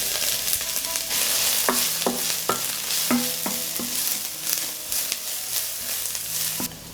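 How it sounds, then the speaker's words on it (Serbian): Onion and garlic land in heated oil in a frying pan, crackling and sizzling steadily while a spatula taps and scrapes the pan several times; close and moderately loud, without talk. "Na zagrejano ulje spuštam luk i beli luk"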